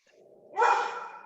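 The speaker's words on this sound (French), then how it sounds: "Désolée, c'est mon chien." A pet dog named Opal gives a single bark indoors at home. It starts as a soft, breathy whine and rises into one loud, close bark that trails off. No voices are heard.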